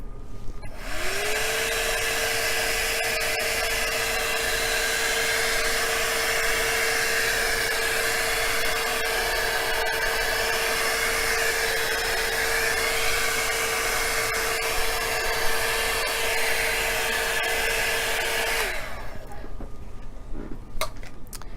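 A heat tool blows steadily over an acrylic paint pour, a continuous loud whirring hiss with a constant tone, running close for about eighteen seconds before switching off, with no voices.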